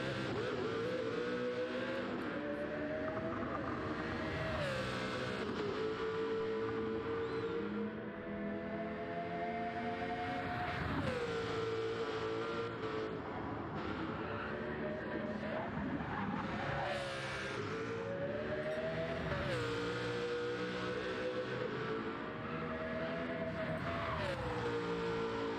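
A GR2 race car engine in a racing video game roars continuously at the Green Hell circuit, its pitch climbing and dropping through gear shifts, loud and close with no talking.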